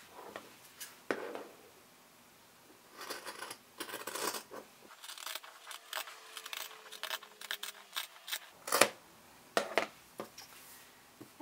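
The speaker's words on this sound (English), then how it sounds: "then you can go ahead and cut all three pieces of fabric together" Scissors cut through three stacked layers of fabric for a sewn face mask, a series of close, crisp snips in irregular bursts with quiet pauses between, and no talking.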